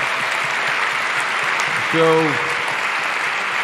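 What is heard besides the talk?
audience applause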